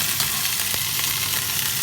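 Loud, constant sizzling of food in a hot pan, a dense crackling hiss with no voices.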